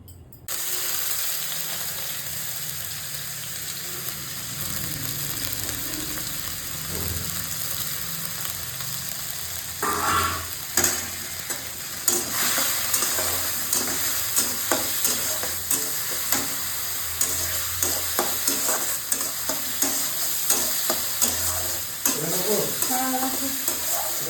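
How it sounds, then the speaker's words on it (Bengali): Moong dal fries in hot oil with a steady sizzle, while a utensil scrapes and stirs the pan in sharp, repeated strokes that grow busier partway through. "এখন আমি মুগ ডালটা একটু তেলের মধ্যে ভেজে নেবো"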